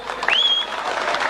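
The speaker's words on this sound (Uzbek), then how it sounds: "Bir yaxshi qarsaklar bo'lsin." A wedding crowd claps in a brief burst of steady applause with a whistle cutting through near the start.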